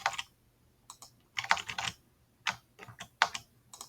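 Someone types short bursts on a computer keyboard while filling in a web signup form, quick close key clicks in clusters separated by brief pauses.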